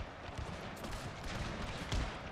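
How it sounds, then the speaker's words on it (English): Cannon fire in the video game Pike and Shot during an Ottoman versus Poland battle, a flurry of muffled booming shots and crackling volleys over battlefield noise. "My cannon's even firing."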